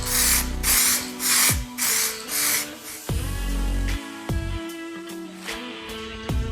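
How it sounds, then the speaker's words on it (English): Repeated hissing bursts of black gloss spray paint from aerosol cans onto a BMW E36 car roof, each spray lasting about half a second, interleaved with clicks, rattles and handling knocks close to the source. "I threw 3 cans of black spray paint onto it."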